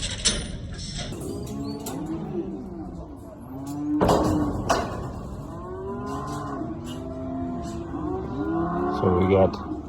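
Cattle low repeatedly in pens at a livestock scale during shipping, several moos rising and falling over clatter and rattling gates, with people talking nearby.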